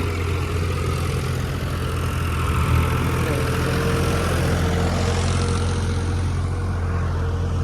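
A farm tractor loaded with soil runs with a steady, loud engine drone that rumbles on without a break and has no voices over it.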